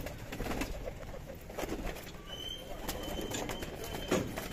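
Pigeons in a loft coo in soft, repeated low calls, close by, with scattered bursts of rustling and wing movement throughout and no talking.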